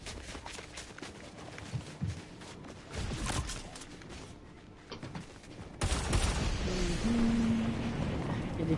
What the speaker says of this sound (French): Il y a des tirs.